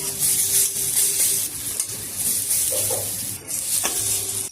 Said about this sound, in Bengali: এই বড়াগুলোও আমি ভেজে নিচ্ছি।